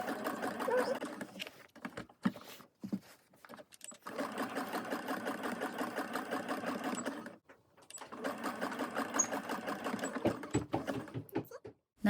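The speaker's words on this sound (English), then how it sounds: "So here I'm using a zigzag stitch for our heart-shaped applique." A sewing machine runs zigzag stitches around a heart-shaped appliqué on fabric for a tote bag, a close, steady rapid whir in three long runs separated by short pauses.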